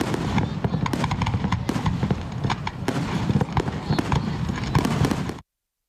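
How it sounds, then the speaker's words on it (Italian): Fireworks over Cavallino Treporti near Venice crackle and pop in a dense, continuous barrage of loud bursts, then cut off abruptly. "Chiudiamo con i fuochi d'artificio di Cavallino Treporti questa nostra edizione veneziana."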